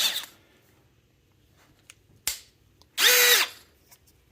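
Milwaukee M12 1/4 inch impact driver giving a few short bursts of running, the loudest a half-second whir near the end, with quiet pauses between and no talk.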